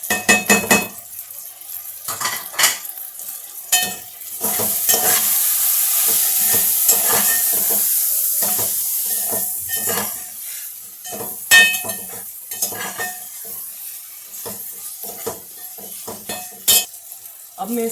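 Whole spices frying in a pot for Sindhi-style soya biryani, with a steady oily sizzle broken by repeated scraping and clinking of a metal spoon as they are stirred.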